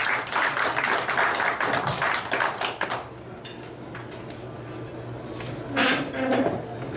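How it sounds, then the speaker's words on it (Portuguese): Applause from a Rotary Club meeting audience in Florianópolis, honoring the panel members, fills the first three seconds with dense, fairly loud clapping that then stops, leaving a quiet room with a brief murmur near the end. "Solicito uma salva de palmas"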